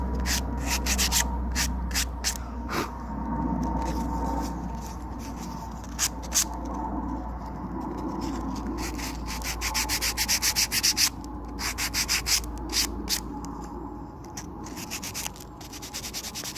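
A wooden edge is hand-sanded to ease it and clear cutting splinters, giving a steady close scratchy rubbing that runs almost continuously, with brief pauses and quicker back-and-forth strokes toward the end.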